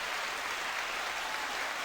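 A crowd applause sound effect: dense, even clapping from many hands, fairly loud and continuous, cutting off abruptly after about two seconds.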